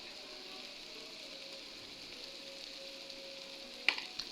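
Chicken with turmeric and spices fries quietly in a pan, a soft even sizzle with a faint hum, ending in a couple of sharp utensil clicks.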